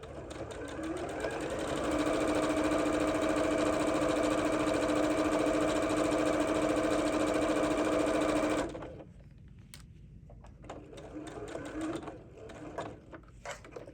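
A sewing machine stitches two fabrics into a heart shape, running with a steady loud whirring drone for several seconds before it stops, followed by a few soft clicks and handling noises.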